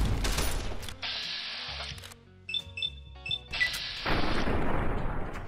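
A big gun fires heavily in Fallout New Vegas during a boss fight, with loud blasts at the start and end around a quieter stretch of short mechanical clicks and beeps in between.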